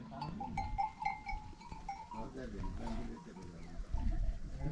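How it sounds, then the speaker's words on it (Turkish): A flock of sheep with mixed tails being let out to graze on a high mountain pasture, bleating repeatedly at several pitches, near and far, with a faint bell clink and people talking over them. "Koyunları salıyor abla. Maşallah koyunları kuyruklu karışık koyunları var."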